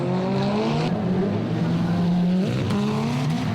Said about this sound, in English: Alex Pfeiffer, the sliding Hawaiian in the RSR S2000.